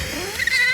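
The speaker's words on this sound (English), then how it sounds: "Bagheera, his little screaming meows" Bagheera the cat lets out a single loud, strained screaming meow, rising and scratchy, close and alone.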